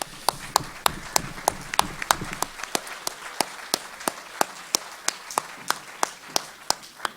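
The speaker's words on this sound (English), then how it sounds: "if we could give them a round of applause, please" A round of applause for a panel at a housing and community development committee hearing: crisp, evenly spaced claps ring out steadily, fuller at first and then thinning to a sparse regular beat.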